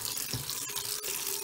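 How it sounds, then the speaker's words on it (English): Hot water running from a tap into a bucket, a steady close hiss and splash of flowing water with a few brief clunks, no voices. "put that in a bucket and fill that with hot water"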